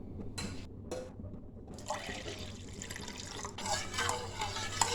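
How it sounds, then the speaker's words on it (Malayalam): A glass of water poured into Kerala vattayappam rice batter in a bowl: a faint splashing, trickling pour that starts after a couple of brief clinks and runs steadily to the end, fairly quiet. "ഇനി ഇതിലേക്ക് 1 ഗ്ലാസ് വെള്ളം ചേർത്ത് കൊടുക്കാം."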